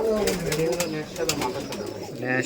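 Pigeons cooing in soft, repeated throaty warbles nearby at a pigeon farm, with people talking over and around the calls.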